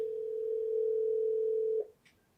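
A steady, unbroken telephone tone hums for almost two seconds, then cuts off abruptly and is followed by a faint click as the phone line connects.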